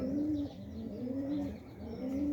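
A caught male pigeon coos in low, rolling phrases, repeated several times up close with no talking.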